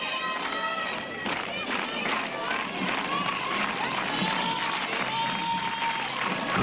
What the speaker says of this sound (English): Crowd claps in unison